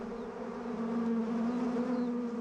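African killer bees buzz in a steady, dense drone, loud and close, with an unbroken hum and no voices over it.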